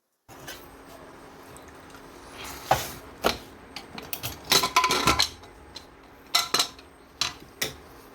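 A metal kadai is set on a stove for cooking dal, followed by a series of close metallic clanks and scrapes after a brief quiet start.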